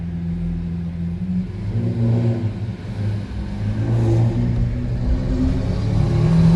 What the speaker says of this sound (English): Oh, this is a Lamborghini. It sounded like a motorcycle.